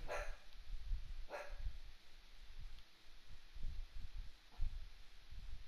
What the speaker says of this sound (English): That's not a signal for you to keep barking!